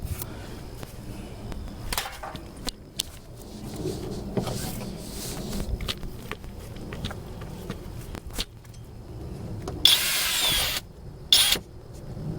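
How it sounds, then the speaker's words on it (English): A power drill bores through the door hang pillar of a Nissan Altima with a dulling bit, in bursts of whirring and grinding with short pauses and clanks, then two loud high-pitched screeching bursts near the end. "this drill bit is getting dull"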